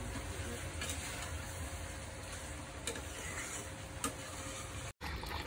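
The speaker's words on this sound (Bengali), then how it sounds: "মাংসটা যে কষানো হচ্ছে" Meat sizzles steadily in a pan as it is stir-fried down with spices in a home kitchen, a constant close frying hiss broken by faint scraping stirs and a couple of light clicks.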